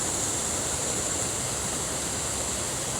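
A waterfall beside an off-trail hiking path roars as a constant, dense rush of falling water, loud and unbroken, with no voices.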